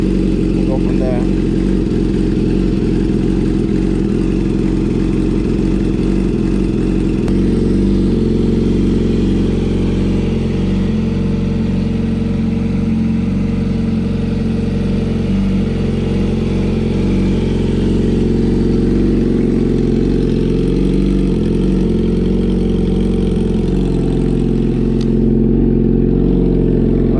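An engine fitted with a welded eBay exhaust, idling loud and close with a deep steady rumble while warming up, its tone shifting slightly through the run and swelling near the end.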